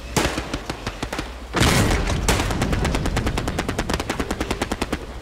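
Rapid gunfire in the World War II shooter Hell Let Loose: loud bursts of automatic fire, a heavy blast, then a long steady run of close, evenly spaced shots.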